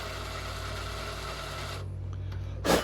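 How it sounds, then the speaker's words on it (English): A drill grinds steadily into a broken bolt to start a divot, a continuous close rasping whir that cuts out near the end before a short sharp scrape. "see if you can start you a little bit of a divot first"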